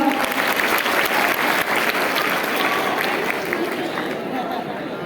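Loud, sustained applause from an audience welcoming a speaker at a foundation day celebration, dense clapping throughout with crowd chatter mixed in.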